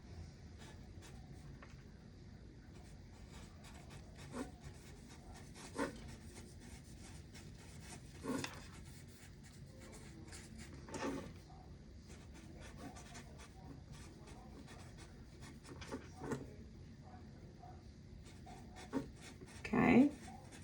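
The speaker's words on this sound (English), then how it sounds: "So I'm going to write mine down." A pen writing on paper makes soft, intermittent scratching strokes, fairly faint and close, with a few louder bumps and brief pauses between bursts.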